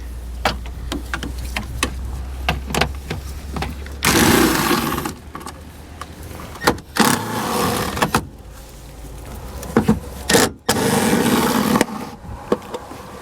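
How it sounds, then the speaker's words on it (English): Power tool with an 8mm socket spinning off taillight nuts on a 2013 BMW 3 Series, heard as three loud whirring bursts of a few seconds each between softer clicks and handling noises. "So we need to remove each of those 3 using a 8mm socket"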